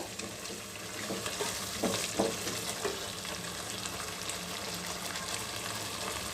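Ground masala paste of poppy seeds, cashews and roasted gram cooks in a pan on a medium flame for methi paneer gravy, with a soft steady sizzle and a few stirring scrapes.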